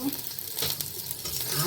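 Garlic frying in a little oil in a wok for phool kopir (cauliflower) manchurian, a steady soft sizzle with faint stirring, no talk.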